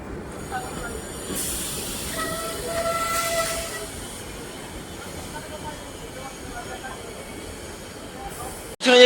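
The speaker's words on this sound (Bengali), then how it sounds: "ট্রেনটা দেখছো one eight zero three zero Shalimar থেকে মুম্বাই লোকমান্য তিলক যাচ্ছে ট্রেনটি" The Shalimar–Lokmanya Tilak express train 18030 passes near Ghatshila, giving a continuous rumble and hiss with a short, moderately distant horn blast partway through and a loud knock at the very end.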